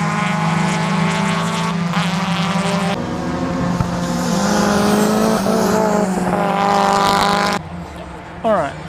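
Mazda MX-5 race cars lap Sydney Motorsport Park, their engines producing a loud, sustained droning whine that rises and falls in pitch as they pass, fairly close and continuous throughout.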